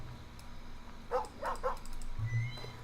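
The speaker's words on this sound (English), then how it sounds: "There's your little dog. He follows with you." A little pixel-art dog in Superbrothers: Sword and Sorcery EP gives a few short, faint yips in a quick cluster over a low steady background hum.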